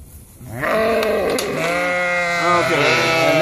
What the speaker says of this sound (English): Got probably some mad sheep.